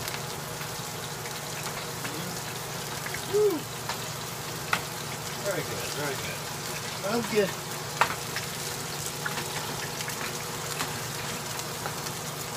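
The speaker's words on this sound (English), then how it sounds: "this bacon popping. It sounds like popcorn" Strips of bacon frying in a pan, a steady sizzling hiss sprinkled with sharp little pops and crackles, close by, while a person talks briefly over it.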